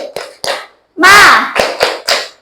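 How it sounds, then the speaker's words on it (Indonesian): Children in a classroom do a rhythmic spirit clap, tepuk semangat: a pattern of sharp group claps with a brief chanted vocal shout in the middle, close and fairly loud. "sekarang Ustazah ajak kalian tepuk semangat"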